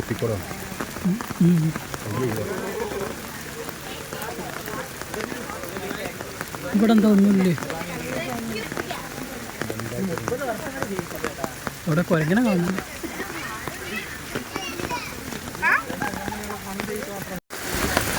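Steady rain patters outdoors in Thiruvananthapuram, a continuous hiss of drops running throughout beneath a person talking.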